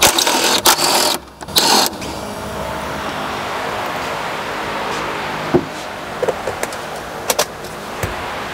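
A Honda Accord windshield wiper motor whirs steadily at close range after a few sharp clicks and clunks, its drone continuing with occasional small knocks.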